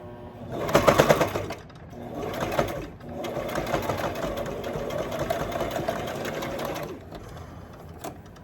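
A sewing machine stitches the edges of a fabric zipper bag. A close, rapid mechanical whirr comes in three bursts: a short fast run, a brief second run, and then a longer steady stretch of about four seconds before it stops.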